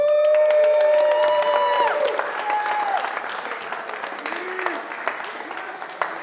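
A crowd applauds and cheers at the Tiny Whoop Open 2023 drone racing finals as a fourth-place pro class finisher is announced. The clapping is loud and close at first, then eases off, with faint tonal squeals over it.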